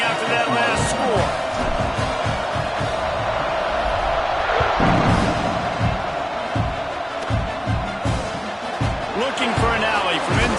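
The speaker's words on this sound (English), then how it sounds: "this crowd is buzzing after that last score." A football stadium crowd buzzes in a steady, broad roar after a score, with scattered thumps and cheers, while a commentator talks over it throughout.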